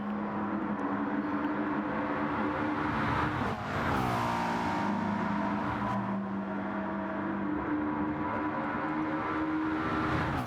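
Race cars at Monza in a racing video game, a continuous loud engine drone with rising and shifting revs as the cars accelerate and pass, with no talking.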